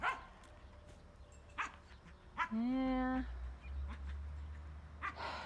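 A dog on a farm with sheep gives a single loud, drawn-out bark or howl in the middle, then pants and breathes nearby. Someone talks quietly around it.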